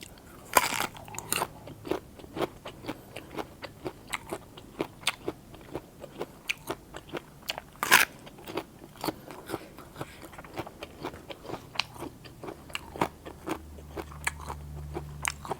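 Crunchy raw water bamboo shoots bitten and chewed close up, with sharp irregular crackling bites and crunches repeating throughout and no talk.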